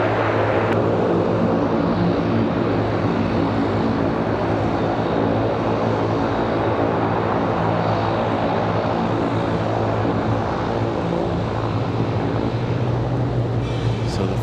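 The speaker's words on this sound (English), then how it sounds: "So the FedEx ATR down to their hangar." A FedEx ATR turboprop taxiing to its hangar at Raleigh-Durham airport gives a loud, steady, low propeller drone with a constant engine hum. The sound is continuous and close, with no voices.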